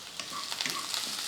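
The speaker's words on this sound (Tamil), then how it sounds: "வெங்காயம் கொஞ்சம் வதங்கினதுக்கப்புறமா கொஞ்சம் கருவேப்பிலையும் மல்லித்தலையும் போட்டு வதக்கிக்கலாம்" Onions, garlic and curry leaves sautéing in a pan for a South Indian side dish, a soft, steady sizzle with faint crackles and light stirring scrapes, quiet and close with no voices.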